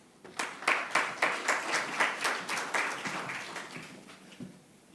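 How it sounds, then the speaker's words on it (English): Applause from a seated audience at a social development partnership summit, a steady patter of many hands clapping at moderate distance that swells quickly, holds, then gradually thins out, with no talk over it. "Let's give him another round of applause, please"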